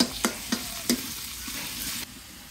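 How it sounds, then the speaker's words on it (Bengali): Green chili paste fries in a pan with onions for a dish of kalmi and pumpkin greens, a low sizzle broken by a few sharp stirring scrapes. "আমি এখন কাঁচামরিচ বাটা দিয়ে দিব"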